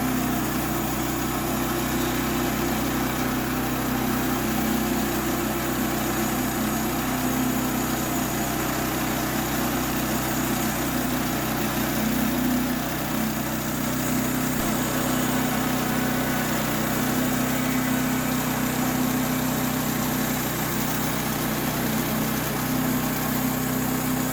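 A Woodland Mills HM122 sawmill cutting a wide board from a large, insect-damaged log, its small engine droning steadily and loudly the whole way through with no talk.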